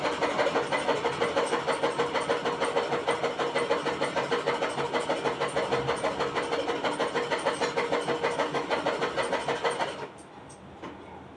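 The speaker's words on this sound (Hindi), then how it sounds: "अब हम दोनों तरफ इसी तरीके से सिलाई लगा लेंगे ताकि हमारा धागा बिल्कुल पक्का हो जाए" A sewing machine stitches a strip of lehenga fabric, giving a steady rapid rhythmic mechanical whirr that runs continuously for about ten seconds before stopping, leaving a quieter background, with no talking.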